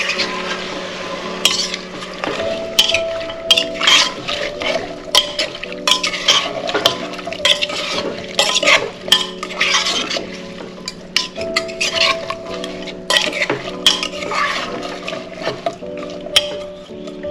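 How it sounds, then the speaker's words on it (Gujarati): Mixed vegetable curry stirred in a pan after about a cup of water is added, with a spoon repeatedly scraping and knocking against the metal over a low simmering bubble, rhythmic and close throughout. "અને બધું મિક્સ કરી લઈએ।"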